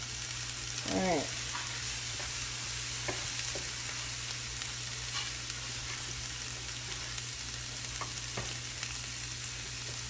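Quiet, steady sizzle of food frying on a Velata raclette grill during a home dinner, a soft even crackle with a low constant hum beneath and occasional light clicks.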